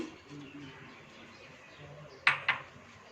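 Pieces of muskmelon drop into a blender jar while making a cold summer fruit drink, two quick hard clinks close together against a quiet kitchen background hum.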